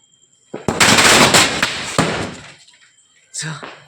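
Diwali firecrackers going off in a village: a dense crackling burst of rapid bangs and pops for about two seconds, fading out, then a short sharp crack near the end, loud and close.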